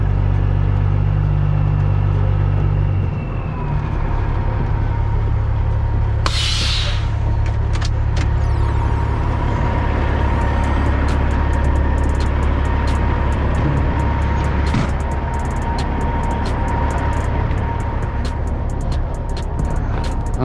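Peterbilt 379 truck with a Cummins ISX CM570 engine pulling out onto the highway, a deep steady engine drone with road noise, loud and close throughout.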